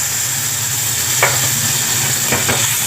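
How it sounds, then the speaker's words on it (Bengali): Spice paste for a Bengali fish curry with elephant foot yam frying in a pan with a little water, a steady sizzle underneath with a few brief scraping stir strokes. "মশলাটাকে এবারে ভালো করে আমি কষিয়ে নেব।"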